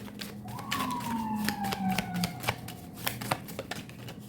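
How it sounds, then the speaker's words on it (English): An emergency vehicle siren passing outside, a wailing tone that sweeps down in pitch and fades, with scattered clicks and shuffling noises nearby. "You heard that siren?"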